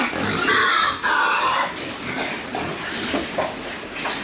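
Pigs in a hog house grunt and squeal in a dense, continuous crowd noise, loud and close, with no clear talking.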